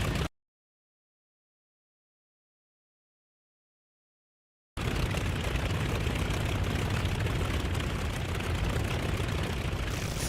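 Aircraft engine noise at takeoff in the DCS flight simulator game, a steady loud drone that starts abruptly after a stretch of silence and holds evenly to the end.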